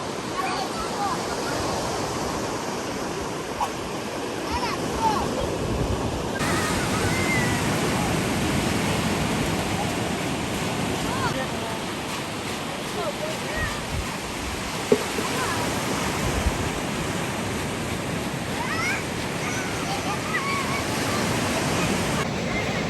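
Waves wash continuously onto West Beach, a dense, steady roar of surf mixed with wind buffeting the microphone, loud and unbroken throughout, with faint voices in the background.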